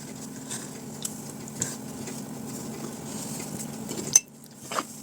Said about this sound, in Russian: Ложечкой просто перемешиваем.